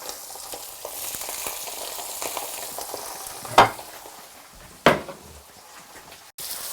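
Herring frying in butter in a hot pan gives a steady sizzle, with a couple of sharp utensil clinks against the pan and no talking.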